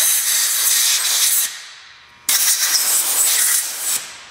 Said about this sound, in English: you want to spray it out with a blow nozzle like this one